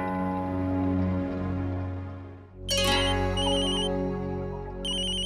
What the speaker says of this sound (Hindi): अब ये फोन क्यों नहीं उठा रही है?